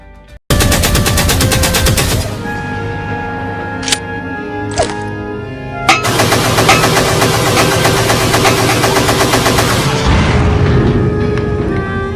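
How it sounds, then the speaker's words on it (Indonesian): Loud booming cannon fire and heavy rumbling, with sharp reports breaking through a continuous roar; the barrage stays intense from start to finish. "Belanda terus-menerus menembaki daerah pertahanan Patimura dengan meriam Benteng Dustek"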